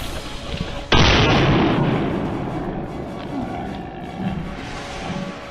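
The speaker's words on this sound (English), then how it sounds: "The gunshot echoed, followed by its roar, and it collapsed on the spot." A wild boar hunt in tall grass: a sudden loud rifle blast is followed by a long, rough roaring that slowly fades over several seconds, close and forceful, with no talking.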